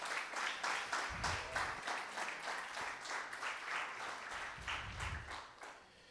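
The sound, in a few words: audience applause in church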